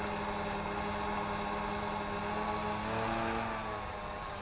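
An Eachine EG16 Winggod drone hovers close by outdoors, its rotors giving a steady loud whine with layered tonal hum that swells slightly near the end.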